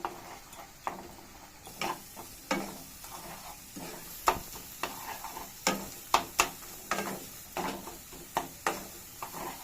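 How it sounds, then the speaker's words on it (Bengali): Two eggs being stirred in a pan for egg tarka, a soft frying sizzle under repeated clicking taps of a spoon against the pan in an irregular rhythm, close and without talking. "এখানে দুটো ডিম ফেলে দিয়েছি, এটাকে নাড়ছি।"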